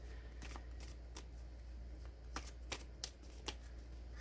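Tarot cards shuffled by hand close up, a quiet run of crisp riffling flicks and snaps in uneven bursts over a soft background hum.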